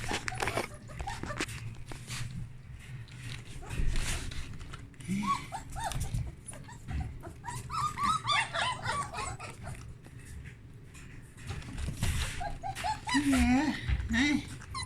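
Several small puppies whimpering and yipping in short, high-pitched bursts scattered throughout, close by, mixed with rustling of blankets and a person talking softly over them.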